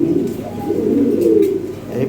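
Bombay pigeons in a breeding pen give low, continuous throaty cooing, loud and close, rolling on without pause.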